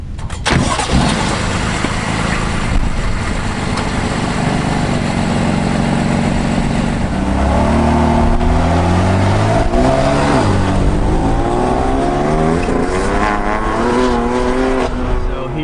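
A 2015 BMW M4 engine starts and revs loudly close by, its pitch climbing and falling through several sustained revs before settling into a rumbling idle.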